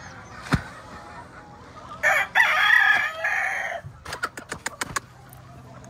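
A gamecock crows loudly and close on a game fowl breeding farm, one long drawn-out call, with scattered hen clucks, sharp clicks and farmyard noise before and after.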